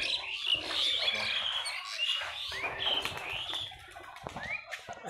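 Giribaz pigeons in Rajshahi call overhead with repeated bright chirps and short rising calls, a soft coo and the light flutter of wings, while a voice murmurs faintly in the background.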